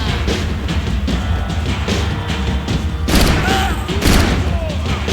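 Gunfire in the video game Max Payne, heard as dense bursts of shots and thuds over a busy, loud game soundscape. Two sharper, heavier blasts stand out near the end.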